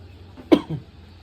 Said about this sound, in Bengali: সবার কাশি হয়েছে